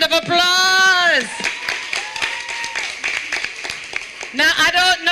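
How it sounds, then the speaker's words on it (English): Audience members at a school debate competition clap for the teachers, with scattered claps in the middle and loud, sustained voices cheering over the applause at the start and again at the end. "give them a round of applause."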